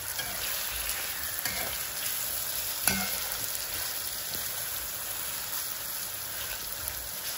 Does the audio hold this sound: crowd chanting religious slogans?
no